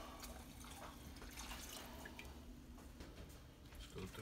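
Moonshine poured into dissolved gelatin mix for jello shots, a steady liquid splash and trickle with faint drips, fairly quiet and continuous throughout.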